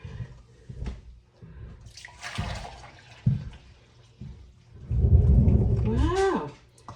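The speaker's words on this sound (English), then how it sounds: "I'm going to empty in my 4 cups of liquid and see how much more I still have here." Liquid from home-canned Boston baked beans poured into a container, a few brief sloshes and then a sustained gurgling pour that fades near the end.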